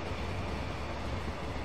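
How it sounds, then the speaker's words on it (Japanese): A train in the Transport Fever 2 video game rumbles into motion, a faint, steady low mechanical drone with no voices. "列車が動きます。 ご注意ください。"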